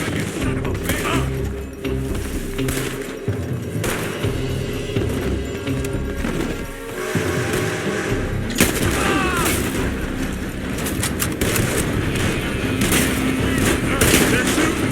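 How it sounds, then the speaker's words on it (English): Rifle and pistol fire in Red Dead Redemption 2 from gunmen shooting out of a building, with rapid overlapping shots, crashes and booms throughout, mixed with shouting and music. "They're shooting from that building!"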